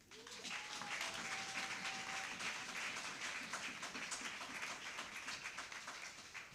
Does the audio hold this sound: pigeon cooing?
no